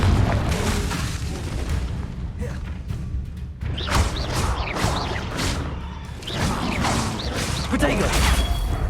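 Fiery Confringo spell blasts hitting targets in a Hogwarts Legacy battle, repeated booming impacts with crashing and creaking debris, over busy combat noise and bursts of voices.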